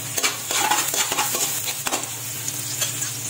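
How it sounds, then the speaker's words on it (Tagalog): Ginger, garlic and onion sauté in a hot pan with a busy, close sizzle, broken by frequent scrapes and light clinks of a utensil stirring against the metal. "Tapos isinunod ko dito ang bawang at isinabay ko na rin ang sibuyas."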